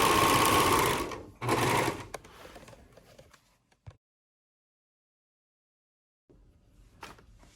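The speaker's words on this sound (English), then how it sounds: "I lift my presser foot, lift the knife, serge off." A serger sewing machine stitching fabric for a cozy, running in a loud, fast close whir for about a second, pausing briefly, then running again before winding down into small clicks and silence, with faint handling noise near the end.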